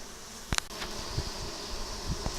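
Honeybees buzz around an opened beehive during an inspection, a steady close drone of many insects with a few soft knocks and thumps.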